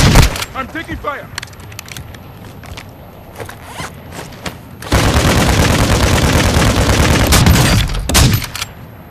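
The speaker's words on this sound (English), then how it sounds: "I'm taking fire." Gunfire in the Call of Duty DMZ video game: scattered shots and mechanical clatter at first, then a sustained, dense burst of loud automatic fire, with voices speaking over parts of it.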